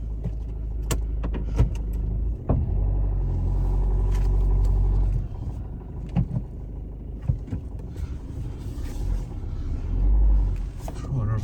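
A Ford Fiesta engine runs at low revs while the car is driven slowly and maneuvered, with a steady close rumble, some throttle swells and a few clunks and knocks from the cabin.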